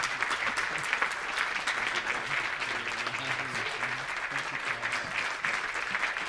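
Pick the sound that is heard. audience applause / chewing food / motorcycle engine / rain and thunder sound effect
audience applause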